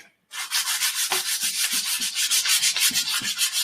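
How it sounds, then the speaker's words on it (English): A brush sands the handle of a wand in quick, rhythmic back-and-forth strokes. After a brief silence, about a dozen and a half close, even rasps follow one another steadily. "I'm going to do a nice brush sanding on the handle as well"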